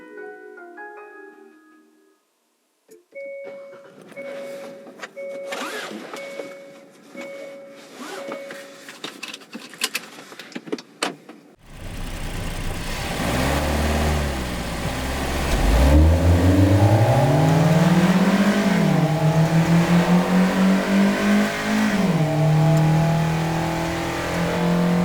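A car engine recorded from under the hood: clicks and faint tones first, then the engine catches and revs, rising and falling loudly and close, with a droning mechanical whine through the revving.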